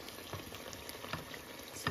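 Dough frying in bubbling hot oil, a soft, steady crackle and bubbling with occasional small pops, quiet and close.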